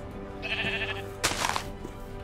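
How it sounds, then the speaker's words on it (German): A single sheep in the Minecraft video game gives a clear, close bleat, followed by a short burst of game noise, with no voices. "So, da ist noch ein Schaf."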